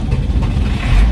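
An old Peugeot 404 pickup engine turns over and catches, settling into a steady, rough low rumble that stays loud and close throughout with no talking.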